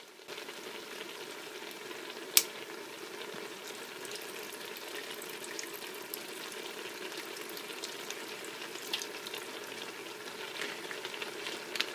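Tofu frying in a hot pan with low sodium soy sauce, a steady soft sizzle and crackle close by, with one sharp clink early on and no talking.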